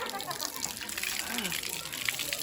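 Cold mountain spring water flowing near Lake Danao in Ormoc City, a continuous close gushing splash with people talking over it.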